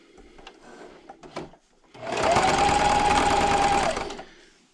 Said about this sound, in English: And I'm going to backstitch.